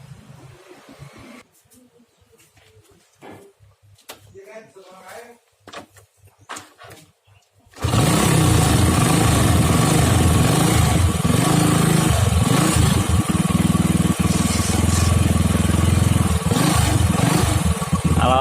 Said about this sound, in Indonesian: Kita langsung coba engkol kaki ya, nyala apa enggak itu.